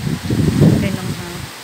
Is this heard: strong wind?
yes